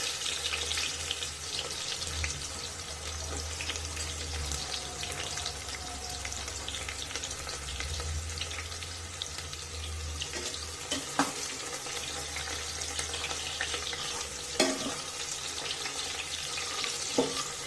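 Sliced onions frying in hot oil inside a pressure cooker, a steady soft sizzle that runs throughout, broken by a few small clinks and stirring taps.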